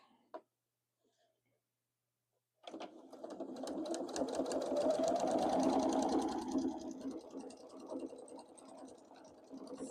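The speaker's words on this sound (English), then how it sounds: "sew down our binding" Domestic sewing machine stitching down quilt binding, starting after a short pause with a brief click, then running steadily and fairly loud with a fast, even mechanical whir that continues to the end, with no talking.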